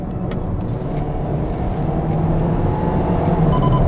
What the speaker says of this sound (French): on est sur un moteur atmosphérique, d'où cette sonorité qui est assez présente sur le véhicule quand même